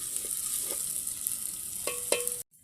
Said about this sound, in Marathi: हे बघा कसलं मस्त आलं लसूण पेस्ट फ्राय होते आपली